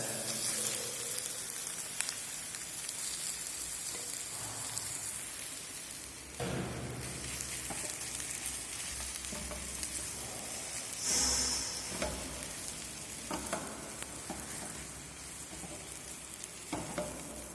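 Boiled, mashed potatoes frying in a hot pan with chili, a steady crackling sizzle with occasional stirring scrapes, close and continuous without talk.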